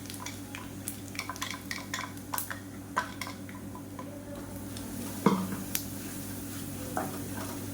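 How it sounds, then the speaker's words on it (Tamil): Ground masala paste sautés in oil in a pan for white channa masala, a soft steady sizzle punctuated by scattered clinks and taps of a spoon against the pan, with one louder knock near the end. "இப்போ நம்ம அரைச்சி வச்சுருக்க அந்த மசாலாவை இந்த எண்ணெயில் போட்டு வதக்கி விட்டுக்கலாம்"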